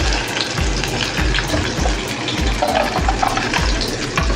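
Steady crackling sizzle of onion frying in oil, with rhythmic scraping stirs throughout and no talking.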